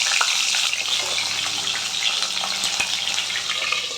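Fish heads dropped into hot oil in a pan, giving a loud, steady, dense hiss of frying that runs throughout without pause, with no voices.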